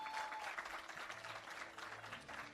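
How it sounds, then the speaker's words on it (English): Audience at an employee service awards ceremony claps steadily, a soft, distant wash of applause that continues evenly throughout with no voices on top. "Let's get the applause going."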